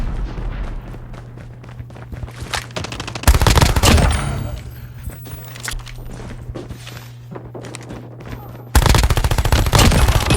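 Automatic gunfire from a weapon in Call of Duty Mobile rattles in rapid loud bursts, with a long sustained stretch near the end, over lighter footstep and movement sounds of the game.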